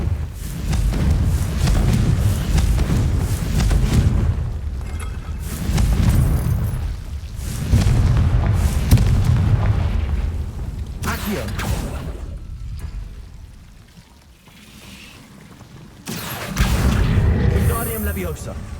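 Confringo blast spell in Hogwarts Legacy, a string of loud booming explosions and whooshes that swell and fade in waves, with a voice casting spells over the action.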